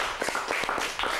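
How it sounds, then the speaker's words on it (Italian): A studio audience claps during a local TV football talk show, the brief, close applause made of quick, uneven hand claps. "Tornate a Piazza Pallone con l'applauso"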